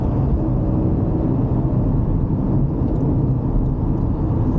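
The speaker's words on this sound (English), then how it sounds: "bring it up to fourth again. Yes. That's it, and then up to fifth gear" Porsche Cayman on the Thruxton circuit, a loud continuous engine roar mixed with road and wind noise, steady with no clear gear changes audible, no speech.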